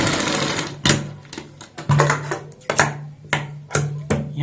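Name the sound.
sewing machine stitching a blouse sleeve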